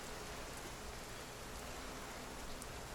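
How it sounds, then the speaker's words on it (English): Rain falls in The Flame in the Flood video game as a steady, even hiss of dense drops, faint and continuous with no voices. "It's another downside of rain."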